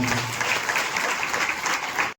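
Loud, close applause from an audience at a Marathi kirtan performance in Nashik, a dense steady clatter of many hands that runs without a break for about two seconds, then cuts off abruptly.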